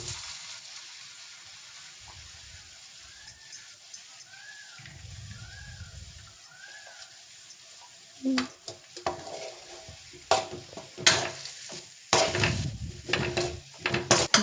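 Beaten egg mixture for bakery-style egg puffs stirred and frying in a pan, starting with soft low sizzling and gentle scraping, then louder, sharper clatters of the spoon striking the pan in uneven bursts, with no talking.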